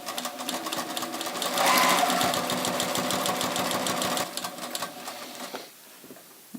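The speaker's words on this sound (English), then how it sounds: "So I'm just going to stitch carefully over the nylon teeth till I get to the other side of my Scotch tape." A sewing machine stitches steadily over the nylon teeth of a zipper, a fast, even mechanical whir with a rhythmic needle patter that runs loud and close, then slows and stops near the end.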